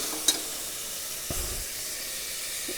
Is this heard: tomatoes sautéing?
yes